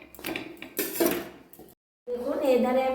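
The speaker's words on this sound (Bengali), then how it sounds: "এদিকে আমি রুটিটা একবার উল্টে দিচ্ছি" Metal clinks and scrapes of a utensil against a hot griddle while a spinach roti is flipped. The clatter comes in short bursts, then briefly stops before steady cooking sizzle resumes. There is no speech.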